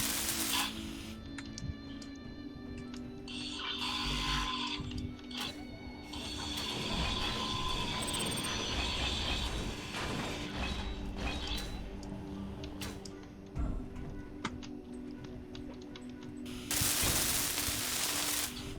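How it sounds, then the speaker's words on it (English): Grinder cutting down a block in Space Engineers, a harsh, sputtering metallic grind with clattering and crackling bursts that goes on through the whole stretch and gets louder at the end. "I gotta grind this down real quick"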